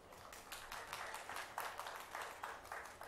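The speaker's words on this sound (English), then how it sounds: "May we have a round of applause for her?" Audience applause at a literature festival in Bangalore, a soft, distant patter of many hands clapping in uneven pulses, steady across the whole stretch.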